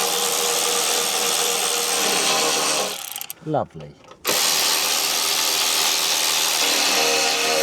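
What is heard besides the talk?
power drill drilling a hole under a Jeep Renegade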